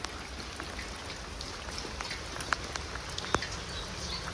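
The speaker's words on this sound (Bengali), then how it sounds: "তাড়াতাড়ি ধরো জোরে বৃষ্টি আইলো" Heavy rain pours down during outdoor fishing, a steady hiss with scattered sharper drop impacts close by and no talking.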